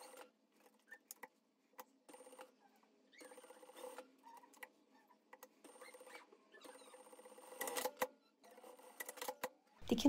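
A sewing machine runs a straight stitch along the fabric wings of a goose pattern, in quiet bursts of fast, even stitching broken by short pauses, with heavier clattering near the end.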